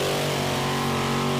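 A monster truck engine roars steadily at full power during a beach drag race, a dense, loud mechanical drone with strong low harmonics and no pause.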